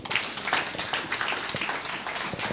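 Audience applause at a conference in honour of Dr. Paul Kawanga Ssemogerere: steady, dense clapping from a hall crowd, moderately loud, holding through the whole stretch with no talk.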